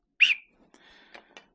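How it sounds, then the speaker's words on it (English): A single short, bright whistle blast from a Bambu Lab P1S 3D printer rings out close by, followed by a few faint clicks and soft rustling. "It's just a whistle."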